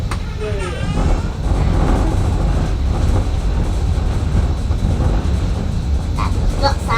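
An old heritage train on the Bluebell Railway rolls along steadily with a constant rumbling, rattling carriage noise. A brief squeal comes at the start, and voices murmur faintly beneath the din.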